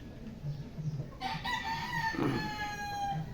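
A rooster crows once, fairly close, among backyard breeder gamecocks, with soft clucking from other chickens before and after the crow.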